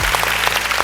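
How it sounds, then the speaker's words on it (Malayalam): Audience applause fills a hall at the Amrita Digital Awards 2025 ceremony, a short burst of dense, steady clapping with no talk over it. "വലിയൊരു കൈയടിയൊക്കെ എവിടെ?"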